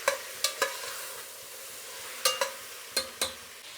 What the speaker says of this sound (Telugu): ఇలా ఒక 5 నిమిషాలు బాగా వేయించుకోవాలి